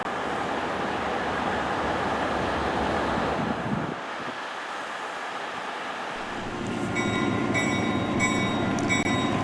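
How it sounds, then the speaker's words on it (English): Continuous rumble and clatter of a Delaware, Lackawanna and Western F-unit diesel locomotive pulling an excursion train along the track, with wind noise and a brief dip before the loud rolling sound returns. "Here we see a Delaware, Lackawanna, and Western F unit as it pulls out on an excursion train."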